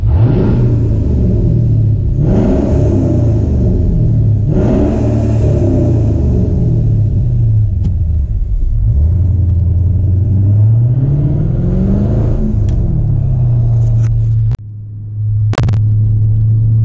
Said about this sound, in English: Got a rev in a tunnel.